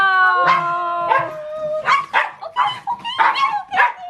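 A dog barks and howls close by, starting with drawn-out whining howls and then breaking into a quick run of sharp, loud yips and barks.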